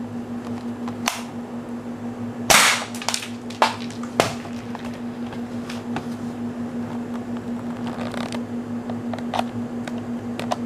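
A Marui SPAS 12 airsoft shotgun fires once, a sharp mechanical crack, followed by a few smaller clicks and handling knocks over a constant hum.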